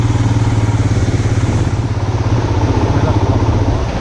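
Royal Enfield Himalayan motorcycle riding toward Munnar, its single-cylinder engine thumping in a steady, loud, close rhythm with road and wind noise throughout.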